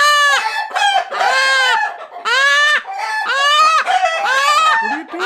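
Leghorn chickens stirred up in a coop squawk loudly and continuously, several close, harsh overlapping calls rising and falling with no talk.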